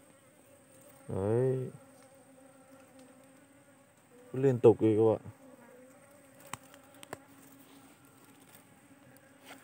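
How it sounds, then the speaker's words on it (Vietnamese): Bees fly around a large tree trunk in a forest, searching for a nesting spot. Two loud buzzing passes sweep close by against a quiet background with a few faint ticks, and someone speaks briefly. "Đây ong nó tìm chỗ là như vậy đấy các bạn."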